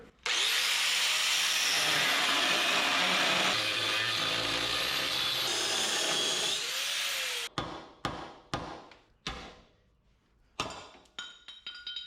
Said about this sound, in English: We're gonna cut along this weld, gouge down in the back